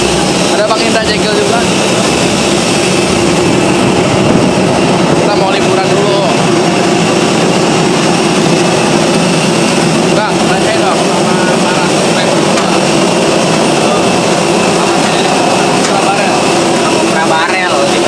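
Airplane jet engine heard close to the aircraft at an airport before a flight to Bali, a loud, steady roar and whine that runs continuously, with a person talking over it.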